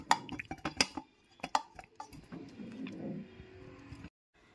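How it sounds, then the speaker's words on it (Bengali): Fried paneer pieces dropped into a large steel tiffin box, a series of sharp metallic clinks and taps followed by softer shuffling, close and fairly quiet. "এরপর এর মধ্যে ভেজে রাখা পনিরগুলোকে দিয়ে দিচ্ছি।"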